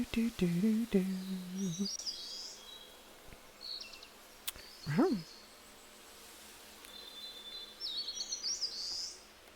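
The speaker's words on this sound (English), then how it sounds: "We've got like bird sound." Birds chirp in a video game world: a few thin, high tweets near the start and a brighter flurry of chirps toward the end, over a faint ambient hum and a single swooping tone in the middle.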